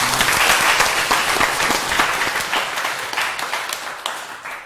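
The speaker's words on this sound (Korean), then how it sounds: "박수 부탁합니다" Audience applause at a Buddhist monk's Dharma lecture, a steady dense burst of clapping from a seated crowd that slowly thins and fades over several seconds.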